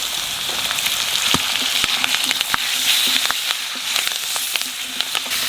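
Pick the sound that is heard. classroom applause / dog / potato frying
potato frying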